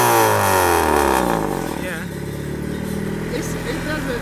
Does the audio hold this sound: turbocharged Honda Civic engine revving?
yes